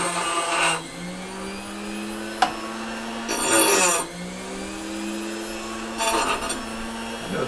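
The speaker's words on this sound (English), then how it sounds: "I know it's brass, but I like to grind on it anyway" Grinder working a scrap brass plumbing fitting: a motor hums steadily while three loud, harsh grinding bursts come at intervals, with one sharp click between them.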